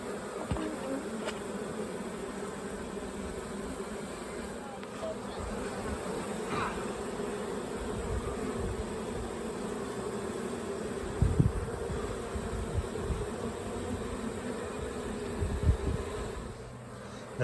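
Honey bees fan at a hive entrance, producing a dense, continuous buzzing drone close by, with occasional louder passes and faint handling sounds.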